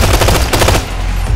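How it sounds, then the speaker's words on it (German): Sustained automatic machine gun fire from the shooter game Ghost Recon Future Soldier, a loud, rapid run of close bursts pulsing steadily and thinning out toward the end. "Wechsel auf Maschinengewehr!"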